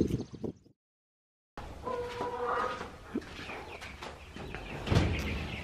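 Backyard chickens cluck softly and intermittently amid outdoor background noise, the calls brief and moderately near after a short silent gap.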